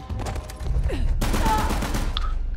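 A gunshot bursts in Uncharted: The Lost Legacy, a sharp loud shot followed by a sustained burst of fire and game ambience.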